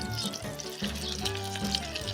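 Continuous crackling sizzle of sprat fish patties frying in hot oil, with small pops and spits scattered throughout, close and moderately loud.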